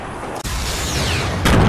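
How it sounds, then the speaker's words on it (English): Rockets blast in a Fortnite Battle Royale match, a dense, loud rumble of explosions with a sudden break then a heavier burst near the end, no voices. "Oh, sending rockets at us, hide behind me."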